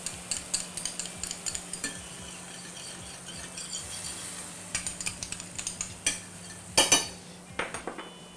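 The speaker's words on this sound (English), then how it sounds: "we're going to deglaze the pan by moving our steak around and giving it a couple turns to soak up some of that wonderful sauce there" Steak is shifted and turned in a pan deglazed with Cabernet Sauvignon, red wine vinegar and honey, giving a low sizzle under clusters of sharp metal scrapes and clinks from a utensil against the pan.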